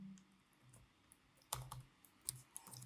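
Fingers type on a computer keyboard in short irregular bursts of crisp clicks, some keystrokes sharper and louder than others, close up with no voices.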